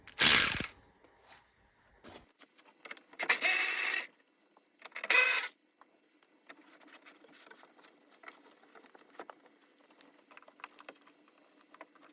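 A hand ratchet clicks while undoing 10 mm bolts on a Toyota Starlet GT electric window regulator: a few short bursts of close clicking, then quiet with faint scattered mechanical ticks.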